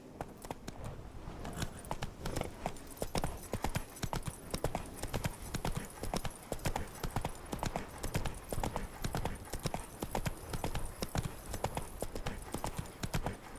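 Hooves of the horse Roach in The Witcher 3 clip-clop in a continuous quick rhythm while walking and trotting, fairly faint and steady, with a voice talking softly over it.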